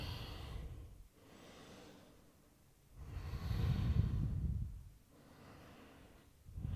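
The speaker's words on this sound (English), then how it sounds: "Big deep breath through the nose." Slow, deep breaths drawn in and let out through the nose during a yoga forward fold, with soft rushing exhales swelling and fading in a calm rhythm, close and fairly quiet with no talk.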